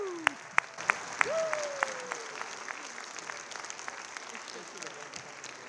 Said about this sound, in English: one more round of applause for those wonderful musicians